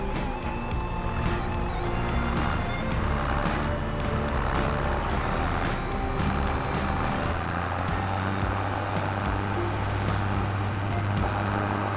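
A vehicle drives along in Farming Simulator 25, a steady engine drone holding over the whole stretch with a low hum that deepens toward the end, no talking.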